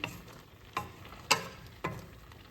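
Bitter gourd and jaggery curry being tossed in a frying pan, four distinct soft thuds and scrapes spaced about half a second apart over a quiet sizzle.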